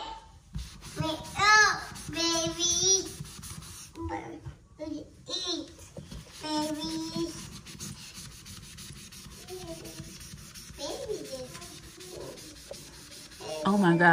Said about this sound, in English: you got to really scrub it